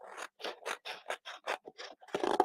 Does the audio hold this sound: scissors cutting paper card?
yes